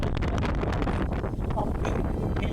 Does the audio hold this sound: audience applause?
no